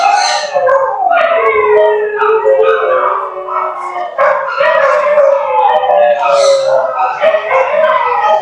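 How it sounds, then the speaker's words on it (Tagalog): Several dogs howl and bark together in a sustained, loud chorus of wavering high-pitched howls, continuous throughout with no break in the noise. "Ang ingay ng mga aso?"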